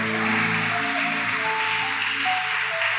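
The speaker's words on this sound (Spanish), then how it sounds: "Vamos a darle un fuerte aplauso al Padre por sus bendiciones." Church congregation applauding during a Spanish-language sermon, a steady wash of clapping that holds at an even, fairly loud level for the whole stretch, with no voice over it.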